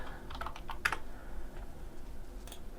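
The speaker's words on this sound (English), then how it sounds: "and then enter my password" A password typed on a computer keyboard: a quick burst of soft, close key clicks with a few louder taps, then scattered keystrokes after a short pause.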